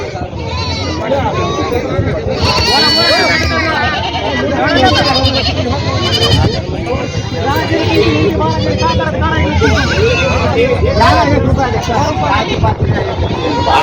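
Many goats bleat repeatedly at a busy goat market in Vasmat, Hingoli district, their cries overlapping with crowd chatter and people talking nearby.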